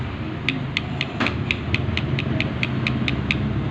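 An idling engine with a worn connecting rod bearing gives off a steady, evenly spaced knock, a sharp tick about four times a second over a low, continuous rumble, with no voices.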